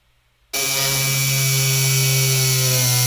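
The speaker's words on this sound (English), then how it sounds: "I can drill very carefully through the cowling" A drill bores holes through the plastic cowling of a PA Ultimate AMR 60 model aircraft, starting abruptly after brief silence and running as a loud, steady, high-pitched whine with no talk.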